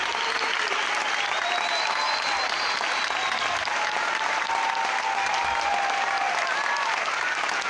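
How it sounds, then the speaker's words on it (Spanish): A full theatre audience keeps clapping through a blackout at the end of a concert, steady dense applause throughout, with faint whistles or cheers drifting above the clatter. "¡Bravo! Aplausos y apagón."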